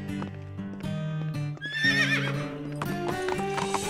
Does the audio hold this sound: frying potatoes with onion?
no